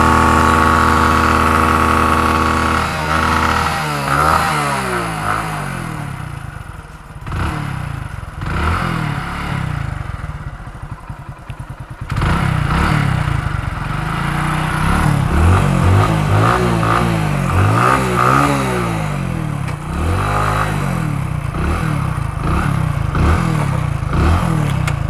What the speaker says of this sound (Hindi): और भाई बाइक स्टार्ट हो गई है